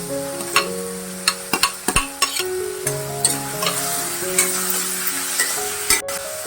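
Chopped onion sautés in a pan for a Maharashtrian sprouted moth bean (matki) dish, with a steady broadband sizzle under frequent sharp clinks and scrapes of a spoon stirring against the pan, close and fairly loud, no talking.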